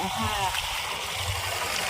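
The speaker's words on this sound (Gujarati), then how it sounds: "આ પાણી કેવું સારું જાય છે રોડ માંથી પાણી નીકળે" Water rushes and gurgles steadily across a surface, a continuous flowing wash with a voice talking over it.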